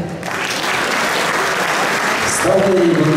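Loud, dense applause from a large audience at a Bulgarian Olympic Committee centenary ceremony, sustained and even throughout, with a faint tonal sound rising near the end.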